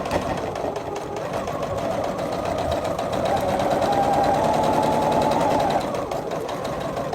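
A sewing machine stitches pinned fabric for a 3D pinwheel quilt top, a loud, steady, close-up mechanical whir with fast rhythmic needle chatter that runs without a break.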